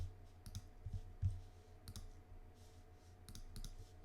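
Sharp mouse clicks while working in the Unity editor, several quick single clicks and pairs spaced irregularly over a quiet computer hum.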